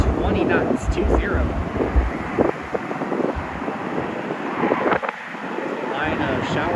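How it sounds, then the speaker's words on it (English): Gusting wind buffets the microphone at an airport on a blustery afternoon, a steady rushing roar with occasional louder gusts throughout. "Wind currently gusting to 20 knots,"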